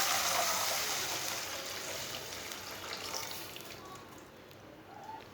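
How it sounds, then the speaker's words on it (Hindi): Half a kilo of milk pours into a pan of lightly browned ingredients, making a continuous gushing splash that starts loud and slowly fades, with no talk. "आधा किलो दूध डालेंगे"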